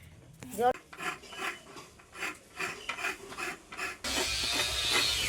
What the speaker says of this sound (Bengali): সেই জন্য একটা নারকেল ফাটিয়ে কুড়িয়ে নেব